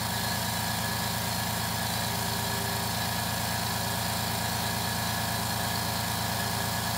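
A newly unboxed air compressor runs steadily as it fills its tank, a loud continuous motor drone with a fast, even pulsing throb that holds constant throughout, with no voices.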